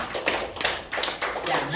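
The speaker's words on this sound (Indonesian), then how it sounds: "Tepuk tangan buat Tuhan." A church congregation at a Sunday worship service claps hands in a quick, fairly faint patter of irregular taps, with voices carrying on in the background.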